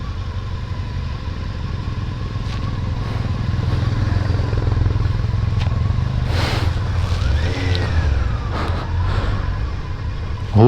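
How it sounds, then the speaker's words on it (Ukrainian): A motorcycle engine runs steadily throughout, with a low rumble and occasional clattering bumps, as if riding over uneven ground. "Не дуже я люблю, звісно, на цьому мотоциклі їздити по таких дорогах"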